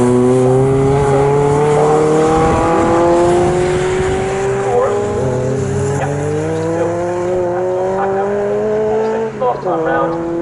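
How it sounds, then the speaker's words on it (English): Lotus Elise race cars at Snetterton circuit pass with a loud, sustained engine drone whose pitch climbs steadily as they accelerate, with a second engine layered in, while a commentator talks over it. "John Packer now coming back into our side to the grandstand."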